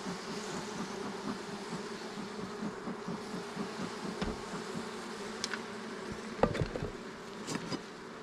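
Honeybees buzz in a continuous, close hum inside an open hive during queen rearing, a dense steady drone with a few soft knocks and handling sounds and no talking.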